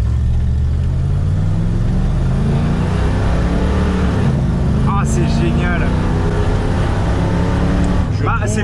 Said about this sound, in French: Donc là, j'accélère à fond.